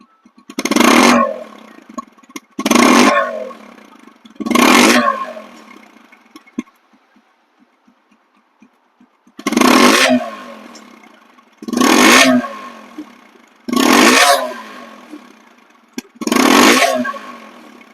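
A TVS Apache RTR 150cc motorcycle engine is revved hard in repeated short bursts, each roaring up then dropping back to a quiet idle, close and loud.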